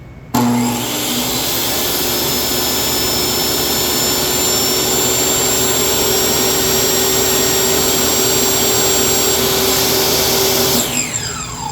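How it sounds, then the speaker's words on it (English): A miter saw runs continuously for about eleven seconds while cutting interior trim, a loud, steady motor whine with a high blade tone that spins down at the end. "I'm going to use the miter saw to do this"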